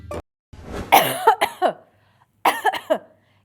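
Two bursts of harsh, close coughing, each a quick series of three or four coughs separated by a short pause.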